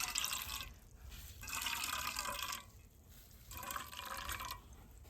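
Coconut milk straining from grated coconut, coming in bursts of splashing, trickling liquid that stop and start again several times, close and fairly clear, with no talk.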